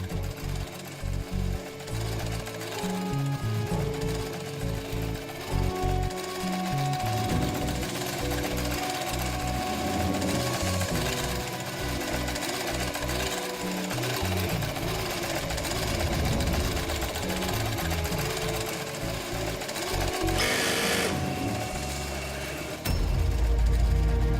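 A sewing machine runs almost continuously with dense, fast mechanical stitching and a low thumping rhythm in a tailoring workshop, loud and close, with a brief pause near the end.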